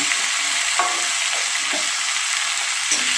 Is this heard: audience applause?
no